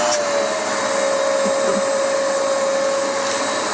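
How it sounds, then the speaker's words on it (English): A Hoover High Performance Swivel XL vacuum cleaner runs at full power with a loud, steady motor drone and a fixed whining tone, heard alone without pauses. "That's sucked up just about as good as my shop vac."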